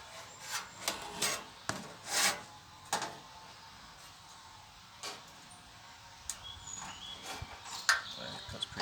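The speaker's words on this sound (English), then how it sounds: "So it cuts pretty easy with tin snips" Tin snips cutting the corners off a sheet metal panel for an MX5 roll bar install, heard as a series of sharp, brief metallic snips and rasps, close and fairly quiet, with pauses between bursts.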